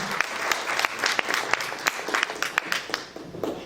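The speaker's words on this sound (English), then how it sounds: "you can clap louder than that" Applause from an audience at a mayor's State of the City address, a close and fairly loud patter of many hands clapping steadily throughout with sharp individual claps.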